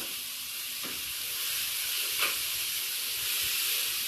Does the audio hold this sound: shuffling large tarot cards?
no